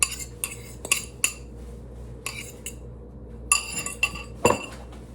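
Egg yolk is mixed into broccoli in a glass bowl, producing repeated sharp clinks and taps of a utensil against the bowl in irregular bursts, close and fairly quiet, no talking.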